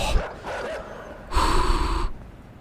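Dogs in the video game Inside give short panting, gasping barks, with a louder sustained growling bark burst in the middle of the moment; no talk over it.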